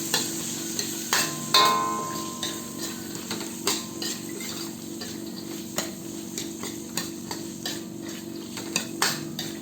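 Chopped cardis vegetables sautéing in a pan for a few minutes, a steady low sizzle with repeated utensil scrapes and clinks from stirring, close and moderately loud, with no talking.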